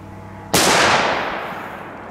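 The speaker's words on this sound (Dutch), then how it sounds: "Echt harde knallen, man." A Trueno number 4 Belgian firework goes off close by with one sharp, very loud bang followed by a long hissing, crackling decay that slowly fades over the next second and a half.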